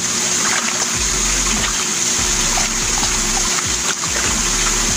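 Water sloshes and splashes in a small tub as a turtle's shell is gently scrubbed, with soft repeated scraping strokes close by and trickling water throughout.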